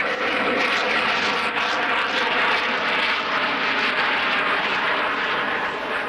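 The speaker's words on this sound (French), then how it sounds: "soudain sa route croise celle d'un Concorde en feu" Burning Concorde airliner passing overhead with its number 2 engine on fire, a loud, steady, broadband jet roar that holds constant throughout with no voices.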